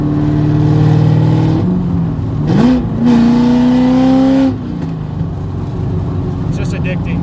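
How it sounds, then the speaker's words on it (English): A cammed, straight-piped Chevrolet Corvette C5 Z06 engine revs loudly and close, its harsh tone climbing through two sharp throttle blips, holding a rising pull for over a second, then dropping back to a lumpy, choppy idle. "it's a straight pipe Corvette that's cam, so."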